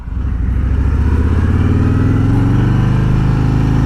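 A Harley-Davidson Road Glide Special motorcycle engine runs steadily and loudly nearby, a deep throbbing rumble with a rising pitch as it pulls, no voices over it.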